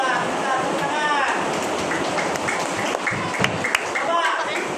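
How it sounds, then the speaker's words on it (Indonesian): Applause from children in a religious lesson, a steady patter of clapping filling the room with young voices heard over it. "Ya, kita tepuk tangan."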